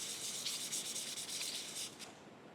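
Fine 1500-grit sandpaper rubbed by hand over a Monarch 10EE lathe apron part gives a soft, close, hissing scrub in quick even strokes, quiet and continuous before easing off at the end.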